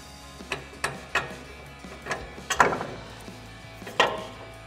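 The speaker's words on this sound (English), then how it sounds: "Next we can remove our lower strut bolt." Wrench loosening the lower strut bolt during a front leveling kit install on a Toyota 4Runner, a series of about seven sharp metallic clicks and knocks at uneven intervals, close and moderately loud, without talk.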